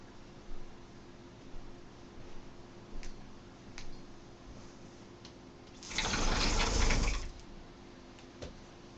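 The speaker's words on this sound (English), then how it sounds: "it's actually pouring rain outside right now" Heavy rain pours outside, a faint steady hiss that swells into a louder rushing burst for just over a second near the end. No one speaks.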